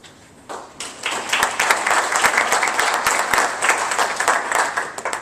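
An audience bursts into sustained applause, dense clapping rising quickly and holding steady at a loud level.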